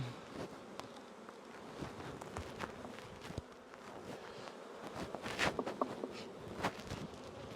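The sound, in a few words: honey bees buzzing on hive frames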